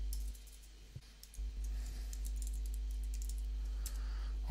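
Keys clatter on a computer keyboard as a name is typed into an email account setup form, a quiet run of close clicks over a steady low hum with no talking.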